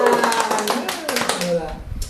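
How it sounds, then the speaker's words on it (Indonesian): A short burst of hand clapping for a guest named Sidan, scattered claps mixed with a lively voice and tonal sounds close by. "Tepuk tangan buat Sidan"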